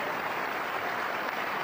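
Stadium crowd applauds steadily for a football player who scored from the penalty spot and is being substituted during a PSV Eindhoven versus FC Basel friendly, a dense continuous clapping roar throughout.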